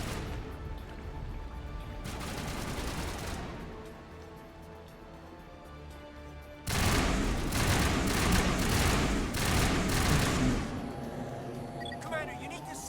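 Gunfire in Mass Effect Legendary Edition on the Virmire mission comes as a short burst, then a longer, louder stretch of rapid shots over a busy combat backdrop, with talk mixed in.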